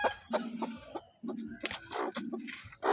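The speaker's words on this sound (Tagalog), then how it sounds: "meron na namang sisiw" Chickens clucking on a farm in the morning, several short hen calls and fowl sounds scattered across the clip, fairly close, with some light rustling and handling noise between calls.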